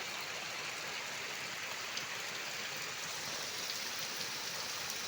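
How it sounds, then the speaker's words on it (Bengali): A steady downpour of heavy rain hisses evenly throughout, constant and close, with nothing else standing out. "বন্ধুরা দেখো, আজ কিভাবে খুব জোরে বৃষ্টি হচ্ছে।"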